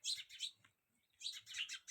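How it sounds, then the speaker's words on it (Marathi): Sparrows chirp in two quick bursts of bright, close tweeting at a village house, with a short pause between the flurries. "आणि इकडं आपण आवाज ऐकू शकता चिमण्यांचा"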